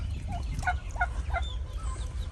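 Turkeys gobble in a video game, a few quick rattling gobble calls in a row over a low rumbling ambient background.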